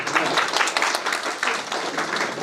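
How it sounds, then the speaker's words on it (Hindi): Applause at a seminar opening ceremony after a ceremonial lamp lighting, dense steady clapping from an audience, fairly loud and sustained throughout, with no talk over it. "जोरदार तालियों से हम"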